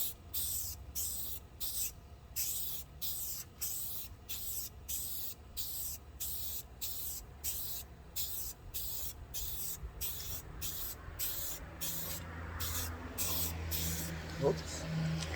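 Aerosol spray can laying an even base coat on a panel, short hissing bursts pulsing in a steady rhythm, close and continuous, with a faint low rumble beneath and a small knock near the end.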